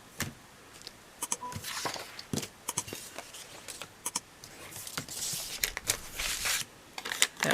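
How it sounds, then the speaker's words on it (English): Scissors snip a small offset piece off a paper planner page, a string of short, crisp cuts and rustles close by with brief pauses between them. "Just going to cut that little bit off."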